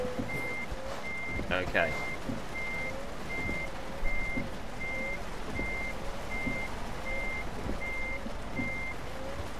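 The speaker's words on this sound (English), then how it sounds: "Let's turn that annoying beep off" A truck in Euro Truck Simulator 2 backs up, its reversing alarm beeping in a steady, evenly spaced pattern over engine rumble and air brake hiss, and someone speaks briefly.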